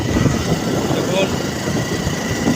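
Motorcycle ride along a forest road near Sonamukhi college, with a steady engine drone and broadband wind rush throughout, loud and close, with no clear speech.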